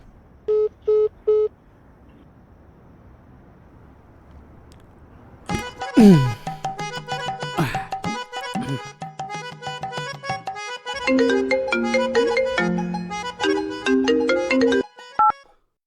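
A phone call is placed: a few short dialing beeps sound early, then after a quiet pause a melodic electronic ringtone plays with rising and falling tones for several seconds, clear and close with no talking.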